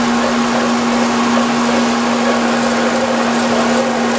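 A metal lathe machines a drive hub for a tractor axle shaft, making a loud, steady mechanical hum with a constant tonal whine and a gritty cutting hiss. It runs continuously and close, with no talking.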